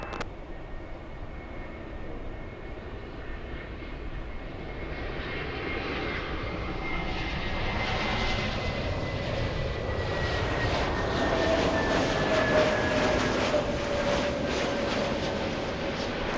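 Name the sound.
Asiana airliner departing LAX runway 24 left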